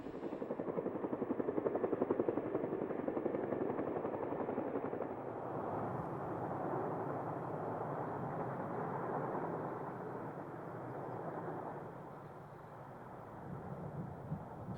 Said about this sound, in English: the helicopters wind up and depart the valley